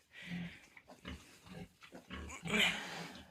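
Piglets squealing and grunting after iron injections, a run of short close squeals and snorts with a louder shrill squeal near the end.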